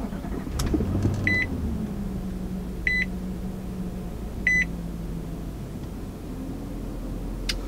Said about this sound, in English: Just as soon as you do that, you will notice that burly V8 firing up